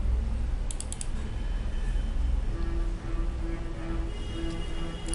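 Computer keyboard keys pressed repeatedly while entering data in SAP accounting software, a few sharp clicks early then faint taps over a steady low hum, close and fairly quiet.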